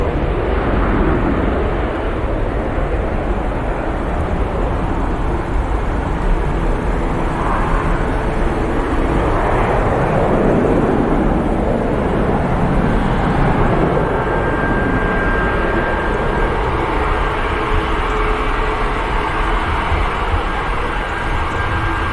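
A KLM airliner rolling along the runway at Manchester Airport, a steady, loud engine roar that swells slightly midway and holds for the whole stretch, with no talk over it.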